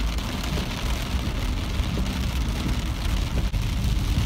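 Heavy rain pours steadily on a car driving home along a road, a dense continuous hiss of drops drumming on the roof and glass over a low road rumble, close and unbroken.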